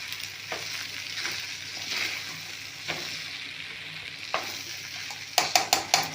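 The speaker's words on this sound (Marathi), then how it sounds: "शेजवान राईस मस्त परतून घेतला आहे, त्यावर थोडीशी वरून कोथिंबीर सोडते आणि एकदा वर खाली हलवून घेते." Schezwan rice with coriander stirred in a pan: steady soft sizzle under scraping spatula strokes, closing with a quick run of sharper clanks against the pan, no voices.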